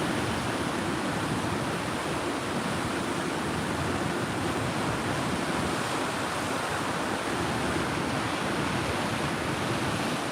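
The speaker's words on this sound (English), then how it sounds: "There's been a couple of good sized waves picking up." Pacific Ocean surf on the Northern California coast, during a tsunami advisory, roars as a steady broadband wash of breaking waves heard from a distance, with wind noise and no talk.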